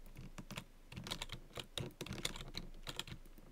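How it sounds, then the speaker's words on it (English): Someone types fast on a loud computer keyboard while playing Minecraft Skyblock multiplayer, with clustered clacky keystrokes in quick irregular bursts, close to the microphone and with no talk over them. "your keyboard is loud"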